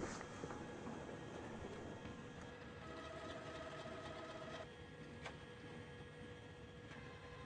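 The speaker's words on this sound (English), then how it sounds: "hitting OK to begin printing a nozzle check" An Epson SureColor S Series wide-format printer runs a nozzle check pattern, giving a steady mechanical whir with a faint whine and soft periodic clicks from the moving carriage. It holds at an even level throughout, with no voices.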